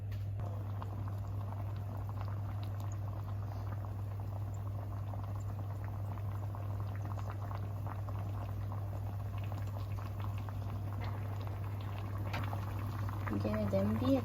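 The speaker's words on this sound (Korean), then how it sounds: "여기 보시면 여기가 더 팔팔팔 끓고 있고 여기는 좀 잠잠해요" A pot of braised aged kimchi stew bubbles on a stovetop, a steady low simmering patter of popping bubbles under a constant hum, with faint burbling rising near the end.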